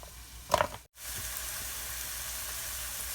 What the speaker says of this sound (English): So now you can see those onions are starting to simmer, starting to saute a little bit